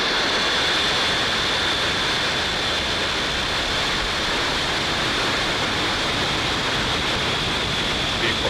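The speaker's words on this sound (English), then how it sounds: "And liftoff, OneWeb 3." A SpaceX rocket lifts off on the OneWeb Launch 17 mission with a loud, continuous broadband roar that stays steady and rumbling throughout.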